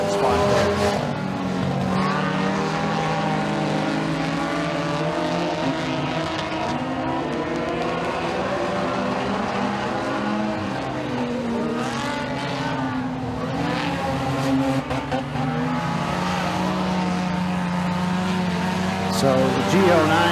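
Race cars roar around the track at Eriez Speedway during heat races, engines droning continuously and loudly with rising and falling pitch as they circle, while a voice talks throughout.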